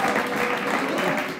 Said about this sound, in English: That applause was like 2 minutes late.